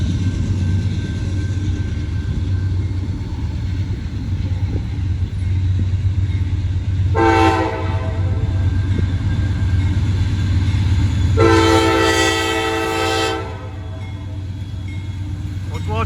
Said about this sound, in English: There goes a runner, a train coming.